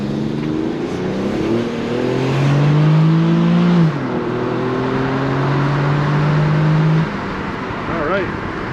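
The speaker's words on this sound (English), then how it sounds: "Let's see how it accelerates." A 2010 Infiniti EX35 crossover with a 300-hp engine accelerates hard, its raspy note climbing through two gear pulls with a brief dip between shifts, loud from inside the cabin before easing off.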